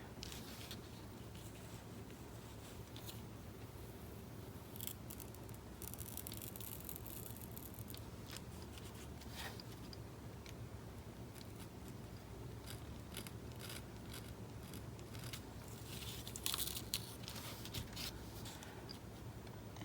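Scissors cutting around a paper planner page, a quiet, close sequence of small snips and rustles with a faint background hum and no voices.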